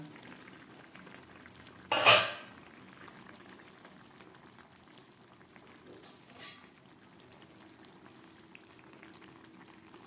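Fish curry with papaya, potato and pointed gourd simmers over a low gas flame, a quiet steady bubbling with one brief loud clatter and a softer knock later.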